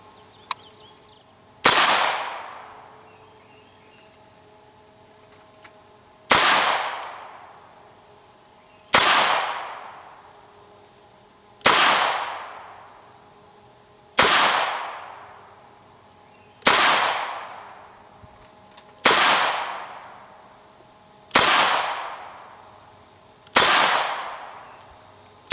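Beretta Neos U22 pistol fired at a target 7 yards away, nine sharp single shots spaced a few seconds apart, each with a ringing decay, fairly loud and alone with no talk.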